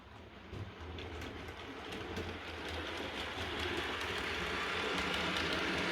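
A model steam train pulls away on a model railway, a steady close rumble and clatter that slowly grows louder and fuller over several seconds with no voices.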